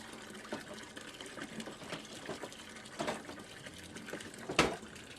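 Water filling a 25-gallon nutrient reservoir, a quiet, continuous gushing trickle with a few small splashes and clunks along the way.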